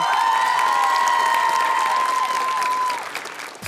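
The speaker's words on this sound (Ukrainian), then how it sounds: "А я оголошую жіночу команду, ваші оплески." Studio audience of a Ukrainian game show applauds as the women's team is introduced, loud dense clapping with a held musical tone over it, then tapering off near the end.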